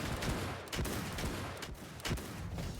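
Soldiers fire in a battle from a video game of Japanese-tactics warfare, crackling as dense, continuous volleys of overlapping shots with sharper reports here and there. The fire sounds distant and fairly faint, with no talking.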